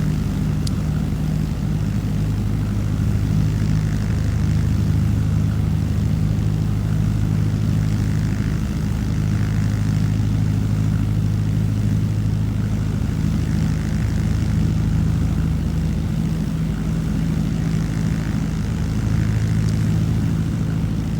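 L-19 Bird Dog propeller aircraft in flight in a flight simulator, a steady droning engine and propeller hum holding level throughout, loud and continuous with no voices.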